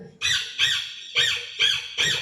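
A human voice mimics a parrot squawking at a school mimicry competition, giving five sharp, harsh squawks in a quick, even rhythm, loud and close with nothing else heard.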